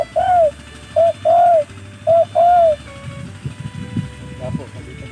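Several soft, rounded coos from a dove or pigeon in quick succession during the first few seconds, then fading into murmured voices and background noise.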